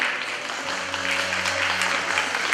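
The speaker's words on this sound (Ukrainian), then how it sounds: "Аплодисменти." Audience applause at an IT olympiad award ceremony, a steady wash of clapping from a hall full of people, moderately loud and continuous for a few seconds, with a low hum underneath.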